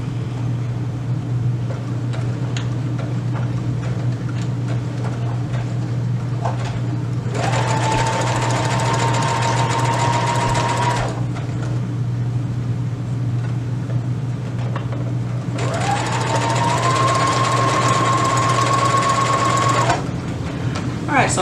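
A sewing machine stitches around a handmade beanie in two sustained runs of steady, close whirring, each lasting several seconds, over a constant low background hum.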